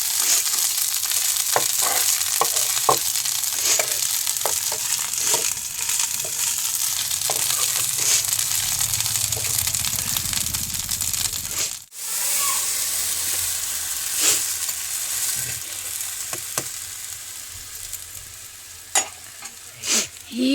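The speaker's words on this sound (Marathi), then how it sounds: "चुलीवर फोडणी देतो आम्ही." Spices for a tempering (phodni) sizzle in hot oil on a wood-fired clay stove while chicken is being cooked. The frying hiss is steady and close, broken by occasional sharp clicks of stirring across about twenty seconds.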